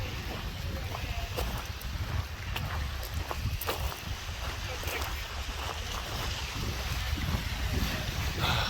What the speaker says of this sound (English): Shot on the shore of the lake with big waves crashing.